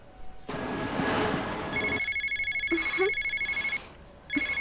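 A telephone rings in a bright, repeating electronic trill, heard in short bursts separated by pauses, close and clear against a quiet background.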